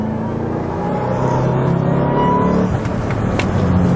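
Ford Mustang Roush 427R Trak Pak lapping a race track through the corkscrew in third gear, engine note loud and continuous from inside the car, a steady throaty drone with slight rises.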